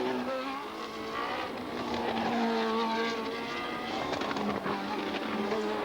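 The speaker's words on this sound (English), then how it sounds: "Scheckter in fourth spot, but nobody can touch the runaway Ferraris" Formula 1 race cars from the 1976 season scream past on track, their high-pitched engines layered and shifting in pitch over a dense, continuous roar, with a hint of tire squeal and no voices.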